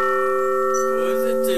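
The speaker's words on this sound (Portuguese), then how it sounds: "você toca o sino que é chamada para missa" A large cathedral church bell, rung as a call to mass, sounds one loud, sustained ringing strike whose tones hang and slowly fade, with faint voices in the background.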